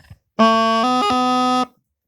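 A single sustained practice chanter tone, bright and reedy, with a quick brief dip to an unintended B before a grace note partway through before resuming, alone and close.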